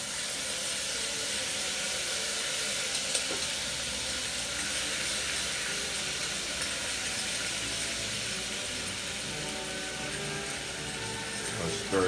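Fish frying in a pan alongside pork dumplings and rice, giving a steady broadband sizzle and hiss that holds at an even level throughout, with a faint clink near the start and again at the end.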